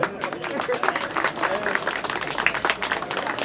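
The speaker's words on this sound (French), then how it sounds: "On peut l'applaudir, je pense." Audience clapping after a stage hypnosis act, a brief lively round of applause mixed with crowd murmur and a voice speaking over it.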